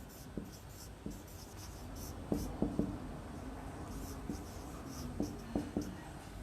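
A pen scratches across paper during an accounting lesson, short strokes and taps in irregular clusters, faint and close against a quiet room with soft murmuring voice.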